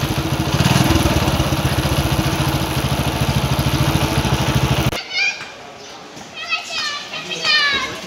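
A TVS XL Heavy Duty moped engine running after starting, a loud, rapid, even putter for about five seconds that then cuts off abruptly, followed by children's voices and chatter.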